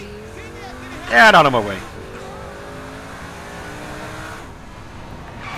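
A car engine drones steadily through a Saints Row 4 drive, a loud rising whine near the start easing into a continuous hum while a voice speaks over it.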